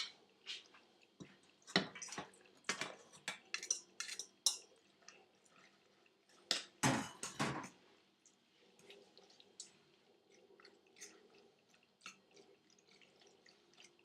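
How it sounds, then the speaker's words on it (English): Drained pasta goes into a pan of white cheese sauce: soft wet plops and splatty clatters in scattered bursts, with a louder cluster midway, then quieter occasional squelches. "I'm going to add this to my sauce"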